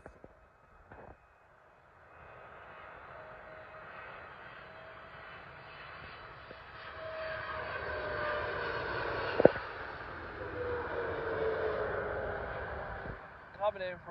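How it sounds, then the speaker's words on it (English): A Singapore Airlines Boeing 777 on approach to land at London Heathrow, its engine roar swelling from near silence into a steady, moderately distant rumble that grows louder, with a sharp click partway through. "Coming in now is a Singapore Airlines Boeing 777 from Singapore."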